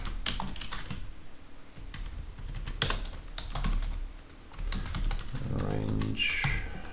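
Someone types HTML code on a computer keyboard, with quick clusters of crisp key clicks and taps in uneven bursts under a person talking steadily.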